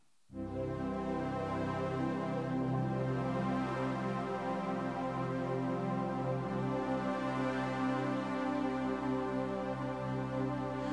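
A sustained synthesizer pad holds a rich, layered chord after a brief silence, swelling in and droning evenly with no other sounds.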